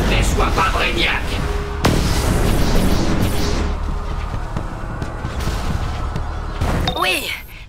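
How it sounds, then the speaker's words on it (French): Loud, dense crashing and rumbling in DC Universe Online as a massive cannon falls onto a force field, with sharp impacts and a whooshing sweep at the end. "Oui, le canon tombe."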